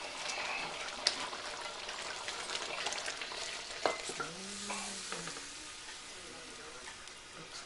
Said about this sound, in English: now you can gently fold this together